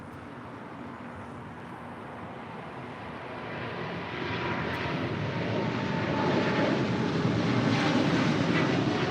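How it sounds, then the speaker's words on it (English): A six-year-old Korean Air Cargo Boeing 777 freighter rolling for takeoff on runway 25 left at LAX, a broad roaring jet engine rush that steadily swells louder, heard from a distance with no talk. "Korean Air Cargo now rolling on 25 left."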